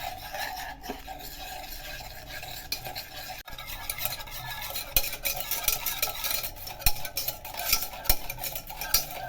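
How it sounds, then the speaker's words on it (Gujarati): A spoon stirs and scrapes around a cup of coffee, sugar and water being mixed for cold coffee, in a steady, rasping rhythm, with small clinks against the sides. "આ રીતે હલાવતા જવું, બરાબર મિક્સ થઈ જાય ત્યાં સુધી"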